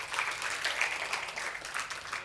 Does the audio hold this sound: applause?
yes